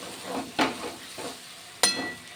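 Spiced potatoes and peas (aloo matar) stirred in a pan, a soft low sizzle broken by two sharp scraping clatters of the spoon against the pan, with no talk.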